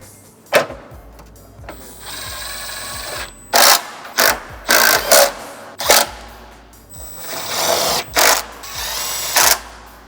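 A power drill drives screws into a radiator on a Porsche Cayenne, with about eight short, loud whirring bursts separated by brief pauses.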